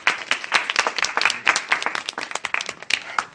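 A studio audience on a music game show claps in a brief, lively round of applause, sharp hand claps filling the room.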